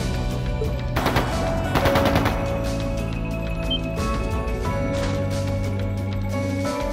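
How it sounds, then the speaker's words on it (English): Dense bursts of rapid gunfire in the PS3 game The Legend of Heroes: Trails of Cold Steel II, over a constant droning game soundtrack, loud and continuous with no pauses. "That didn't sound good. That sounded like gunfire."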